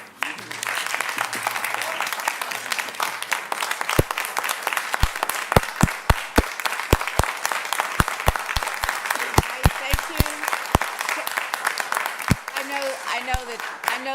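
Applause fills a city council business meeting hall, a sustained wash of many hands clapping with sharper individual claps standing out near the end, while talk continues faintly underneath.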